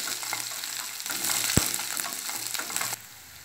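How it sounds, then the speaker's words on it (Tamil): Chopped shallots and curry leaves are stirred in a frying pan with dal. The stirring gives a steady sizzle with scraping strokes, and one sharp clack sounds midway. No one speaks. "கட் பண்ணி வச்சிருக்க சின்ன வெங்காயம், கருவேப்பிலை, இது எல்லாத்தையும் நல்லா மிக்ஸ் பண்ணிக்கலாம்."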